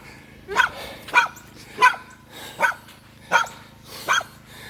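Dogs bark in a steady series of six sharp, evenly spaced barks a little under a second apart, moderately close, over a low background hum, with no talking, outdoors in the aftermath of Hurricane Fred.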